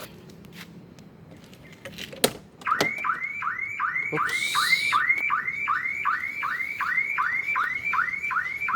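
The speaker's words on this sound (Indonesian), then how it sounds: "Alarm mobil udah diganti." A BMW E30 car alarm blares a rapid repeating warble, loud and close, after a few sharp clicks and thumps.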